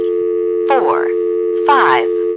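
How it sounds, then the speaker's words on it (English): A steady telephone dial tone from a 1977 NX1-E switching office in Vanceboro, North Carolina, drones continuously while someone talks over it in two short bursts. "if you really want the dial tone to go on for 20 seconds"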